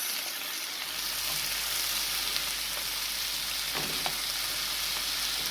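Mixed vegetables frying in a pan for vegetable fried rice, a steady close sizzle with a stir or two, the crackle staying even throughout.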